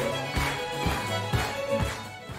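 An accordion plays a short phrase of a few notes, each starting with a clear bellows attack at a steady moderate pace; loud, close and solo with no speech.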